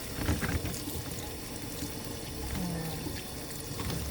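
Moringa leaves are rinsed under a running tap, a steady close splash and trickle of water with light handling noise.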